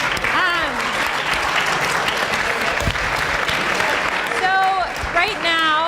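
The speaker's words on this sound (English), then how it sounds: "we can clap for them" Audience applause for the hosts at the close of a high school chapel alumni panel, a steady dense clapping filling the room throughout, with some voices talking over it near the end.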